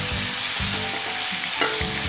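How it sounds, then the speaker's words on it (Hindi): Onion and tomatoes frying lightly in a kadhai for bharta, a steady close sizzle with a few stirring scrapes and clinks, no talking. "इनको हल्का हल्का फ्राई करेंगे"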